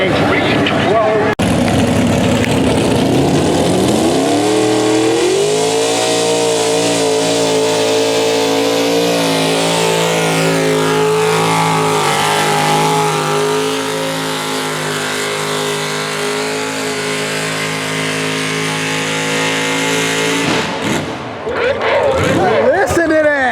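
A pulling tractor roars at a county fair tractor pull in Anne Arundel County, its engine climbing and then holding a loud, sustained drone for about twenty seconds before cutting off, with crowd noise and an announcer's voice around it.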